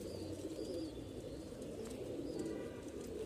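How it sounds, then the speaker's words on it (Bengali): A black Bagha pigeon coos low and soft against a steady background hum, the quiet rolling calls close but faint, with no voices. "এটা তো মূলত একটা বাঘা কবুতর, কালো বাঘা কবুতর, তাই না?"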